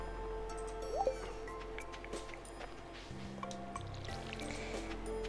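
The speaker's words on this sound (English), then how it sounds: "Let's get Luna some water." In the farming video game Stardew Valley, an animal is given water. Soft drips and liquid pouring sounds are heard, along with small game clicks and a short low tone, all at a low level.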